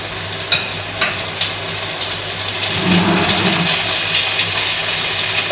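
Pad Thai noodles hit a hot pan and fry with a loud, close, continuous sizzle, a few sharp clinks of utensils near the start.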